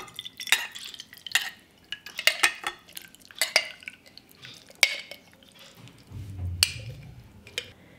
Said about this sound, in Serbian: I sad ćemo sipati pasulj u teglu.